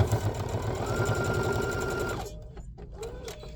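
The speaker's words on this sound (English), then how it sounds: "put my needle down, sew that 1/4 inch seam" A sewing machine runs a quarter-inch seam on a fabric wine bag, a steady close whirring hum that stops partway, followed by a few faint handling clicks.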